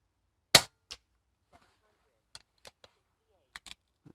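Air rifle firing pellets at a paper target during precision tuning, with a sharp loud crack early on followed by a few fainter clicks and taps spaced across the rest of the moment.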